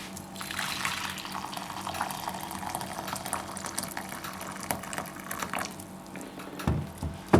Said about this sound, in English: Just put little bit hot water.